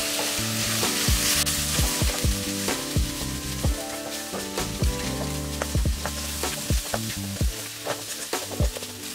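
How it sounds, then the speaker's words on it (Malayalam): Garam masala and mild chili powder sautéing in a pan for paneer capsicum masala, with a steady loud sizzle broken by repeated sharp scraping and stirring strokes of a spoon against the pan, and no voices. "ഇനി ഇത് നന്നായിട്ട് വഴറ്റി ഇതിൻ്റെ പച്ചമണം മാറുന്നത് വരെ."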